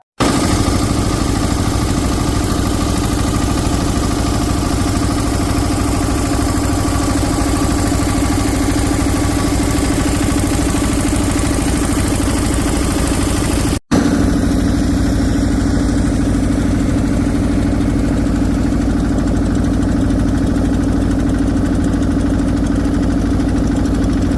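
A motor boat engine runs steadily and loudly throughout a boat ride near Gokarna, a continuous close drone with one brief dropout midway and no speech.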